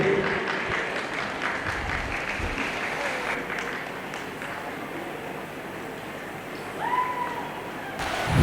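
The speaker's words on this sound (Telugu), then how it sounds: "గట్టిగా చప్పట్లతో మీ అభినందనలు తెలపవలసిందిగా తెలియజేయడం అనేది." Audience at a temple Brahmotsavam festival felicitation ceremony claps in a sustained scattered patter of applause, with crowd murmur and some speech mixed in.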